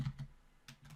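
Fast typing on a computer keyboard, a few close, crisp key clacks in quick bursts with a short pause in between, no voices.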